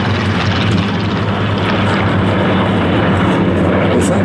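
A Spitfire's piston aircraft engine roars steadily at an air show, a loud, continuous droning rumble with a propeller buzz that holds level throughout.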